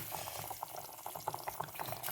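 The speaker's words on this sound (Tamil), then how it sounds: "கொதிக்க வரட்டும்" Thick tomato and potato curry bubbling and popping steadily in a pot, a dense simmering burble with small irregular pops, fairly quiet and close.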